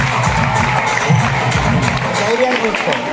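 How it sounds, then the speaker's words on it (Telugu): Applause and cheering rise from a crowd of students at a high school student-leader election as results are read out. The clapping runs steadily throughout, mixed with a voice speaking over the noise. "గట్టిగా చప్పట్లు కొట్టాలి."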